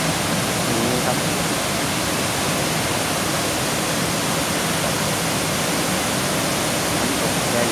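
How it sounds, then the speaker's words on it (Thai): Kaeng Sopha waterfall sends up a constant, dense rushing roar of falling water, steady and unbroken throughout. "น้ำตกแก่งโสภาครับ ครับความอลังการของน้ำตก"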